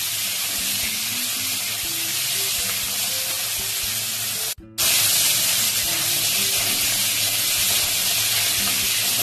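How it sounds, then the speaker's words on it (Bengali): Crabs fry in oil with a loud, dense, continuous sizzle close up, broken by one short gap partway through before the hissing resumes at full strength. "কাঁকড়াগুলো কিন্তু খুব হালকা ভাজতে হবে"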